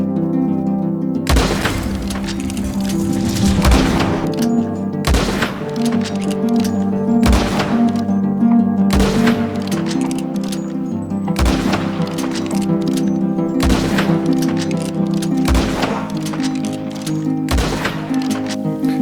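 Rolling Block rifle firing in Red Dead, seven sharp single shots spaced a few seconds apart over steady droning background music, loud and close.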